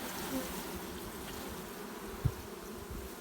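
Honeybees shaken from a brood frame during hive work after a split, a soft continuous buzzing hum of many bees with a brief knock partway through, quiet and close.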